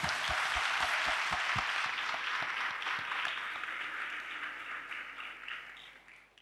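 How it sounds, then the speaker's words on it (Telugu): A church congregation at a Holy Communion and anointing service claps for the priest, with dense, sustained applause that starts loud and slowly thins and fades over several seconds. "ముందుగా మరి తండ్రి గారికి గట్టిగా చప్పట్లు కొడదాం."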